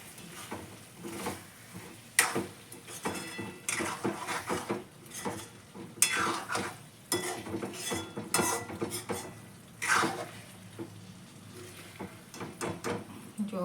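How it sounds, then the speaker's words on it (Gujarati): Chicken curry is stirred in a pan with a metal spoon, giving repeated scraping clanks against the pan and faint sizzling between strokes, close and irregular. "આપણે હલાવી દઈએ."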